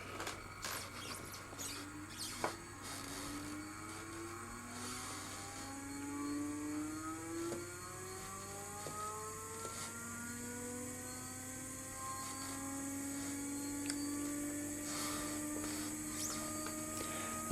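A small motor driven by an SSG circuit with a bulb on the output spins up, its whining hum climbing steadily in pitch over a constant electrical drone, alone with no talk.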